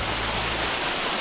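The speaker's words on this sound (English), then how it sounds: "Enjoying the waterfall." Waterfall at Love Falls on a hike outside Brisbane, a constant dense roar of rushing water heard up close with no other sounds over it.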